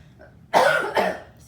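Two close, harsh coughs from a person with a cold and allergies, the first longer and the second shorter, spaced about half a second apart in a quiet room.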